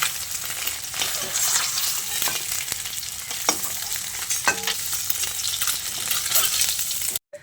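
Eggs frying in hot oil in a pan for an egg and potato curry, a steady close sizzle with a few soft clicks of a utensil moving them, and no talking.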